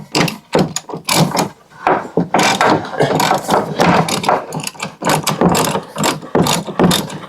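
A hand ratchet on a wobble extension turns the rear strut bolts of a Chevy Volt. The rapid clicking of the pawl comes in bursts of strokes, close and fairly loud, with short pauses between the runs and no talking.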